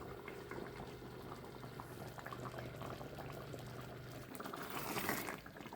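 Homemade fig jam made from backyard figs thickening in a pot, with soft, continuous bubbling and popping at low volume, swelling slightly near the end.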